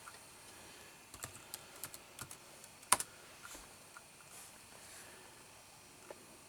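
Keys clicking on an iBook laptop keyboard in short, irregular bursts of light taps, close but quiet, with faint background hiss and no talking.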